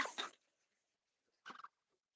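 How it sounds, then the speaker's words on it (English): Young pet geese make soft baby peeps, two brief separate bursts of high chirping with a quiet pause between them, close and faint. "they're still making some baby noises"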